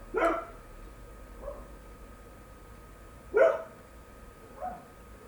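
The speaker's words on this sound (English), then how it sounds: "Well, Big Dog, yep, there she is. Hackles all up" A dog with raised hackles barks in two separate short bursts, the first near the start and the second about three seconds in, each followed by a softer yip. The barks are moderately loud over quiet background noise.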